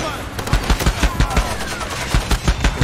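Automatic gunfire in Far Cry 2, a loud close series of regularly spaced shots in a steady rhythm across the whole stretch, with no voices.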